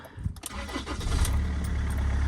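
A Rover 75 car engine cranks briefly and then catches, settling into a steady, low, close idle rumble within about two seconds.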